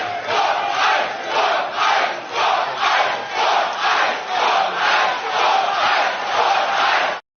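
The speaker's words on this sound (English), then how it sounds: "the entire crowd was chanting" A large crowd at an AEW wrestling event in Las Vegas chants in unison, a loud rhythmic two-beat chant repeating steadily about every half second, filling the arena without pause.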